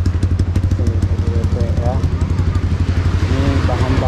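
An enduro motorcycle engine runs close by with a rapid, pulsing low throb and revving, loud and steady, while someone talks over it.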